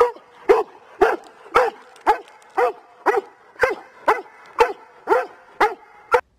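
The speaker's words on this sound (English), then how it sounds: "If you have a dog that gets way too excited every time it sees something it wants in its life" An overexcited dog barks about a dozen times in a loud, close, evenly spaced series, each bark sharp with a whiny, yelping edge.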